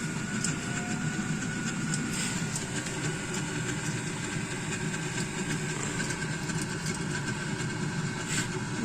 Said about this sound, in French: il y a le petit moteur, on voit le petit moteur qui tourne là avec le petit ventilateur marron là